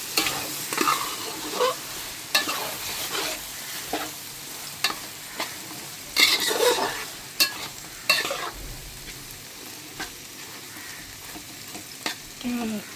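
Ingredients sizzle while roasting in a kadai, with repeated scraping strokes of a spoon stirring close up, soft frying crackle between strokes, no talk.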